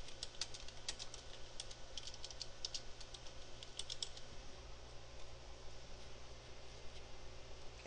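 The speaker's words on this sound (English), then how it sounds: "I'm just going to type my name." Steady, fast typing on a computer keyboard, quiet clicking keystrokes over a low background hum, continuous throughout.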